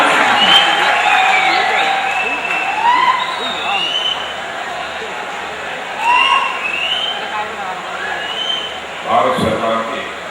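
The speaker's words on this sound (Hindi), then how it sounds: "आज के इस अवसर पर आइए एक बार जोरदार तालियों के साथ हम अभिनंदन करते हैं माननीय" An audience at a Nehru Yuva Kendra closing ceremony applauds to welcome a minister, a sustained roar of clapping from a large crowd that swells and fades across ten seconds, with a whistle-like tone and some voices mixed in.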